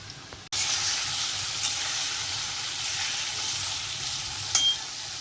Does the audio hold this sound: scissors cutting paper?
no